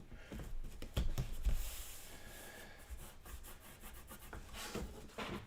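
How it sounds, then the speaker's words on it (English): Steady rubbing as glaze is worked into a napkin-covered card, a soft continuous scratchy friction with a few light bumps, close and quiet with no speech. "I'm going to rub that in good."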